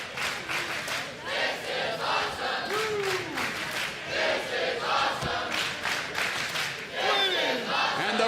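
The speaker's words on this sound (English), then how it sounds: "The crowd here in Windsor appreciating the efforts of these two world-class athletes." Arena crowd at a wrestling show in Windsor cheering and shouting continuously, a loud dense roar with rising yells and whistles sustained throughout.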